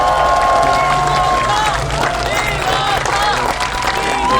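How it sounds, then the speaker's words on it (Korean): Crowd applause and cheering at an outdoor political campaign rally in Daegu's 2.28 Park, sustained and loud throughout, with whistles and shouts rising over the steady clapping. "여러분 큰 박수 주십시오"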